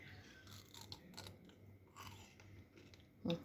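Quiet, close crunching and chewing of Dubai chocolate, soft repeated bites against light background noise, ending with a louder short knock.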